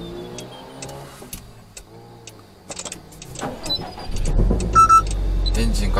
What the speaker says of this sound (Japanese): まずエンジンちょっと一回かけ直してみます